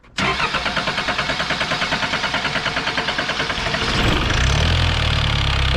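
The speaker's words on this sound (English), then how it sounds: "So now it's running off of the gas vapors that are being sucked into the intake" An M1161 Growler diesel engine cranks and catches while running on gas vapors drawn into its intake, a loud rhythmic chugging that settles into a rougher, steadier roar near the end, close and alone.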